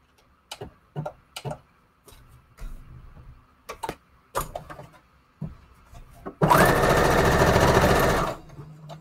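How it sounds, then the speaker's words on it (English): A sewing machine stitches fabric for a junk journal kit. Scattered ticks and clicks of handling come first, then the motor runs in one loud, steady burst of about two seconds before stopping. "I'll just sew it one time with the zigzag, and I'll sew it one time with straight stitch."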